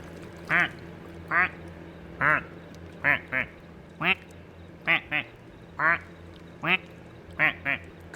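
A plastic rubber duck in the Placid Plastic Duck Simulator video game quacks when clicked, giving a dozen sharp, nasal quacks in an irregular rhythm over a quiet, steady background hum.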